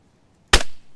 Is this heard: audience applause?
no